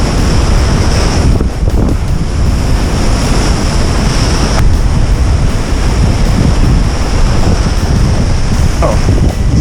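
Surf breaks in white water among boulders along the shore of a striped bass surfcasting spot, a steady loud roar with gusts of wind buffeting the microphone throughout and no voices.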